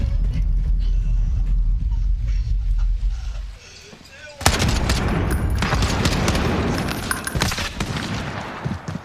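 An EBR sniper rifle fires in Call of Duty Modern Warfare hardcore mode, a sudden loud crack followed by dense, continuous game gunfire and noise over a rumbling backdrop.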